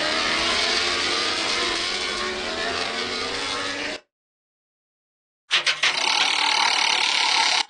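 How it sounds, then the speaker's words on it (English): A motorbike engine revs loud and near, a dense roaring drone that stops abruptly, followed after a brief silence by another burst of noisy sound. "Motorbike."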